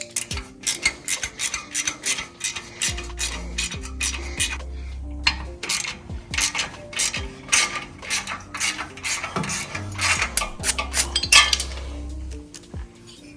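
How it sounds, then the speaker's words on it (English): Quarter-inch drive ratchet with a swivel socket and long extension backing off the exhaust flange nuts on a Harley-Davidson Low Rider ST, giving a rapid irregular run of metallic clicks and clinks with short pauses, close up. "Now we'll remove the nuts for the flanges."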